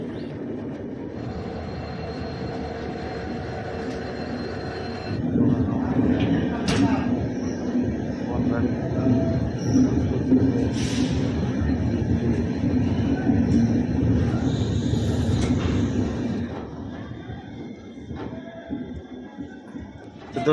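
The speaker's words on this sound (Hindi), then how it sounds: "ट्रेन पहुंच रही है दोस्तों न्यू बोगाईगांव।" The Dibrugarh–Rajendra Nagar Weekly Express pulls into New Bongaigaon station, a steady rumbling roll of wheels and carriages that swells midway and then eases off as the train slows, heard from inside at moderate level.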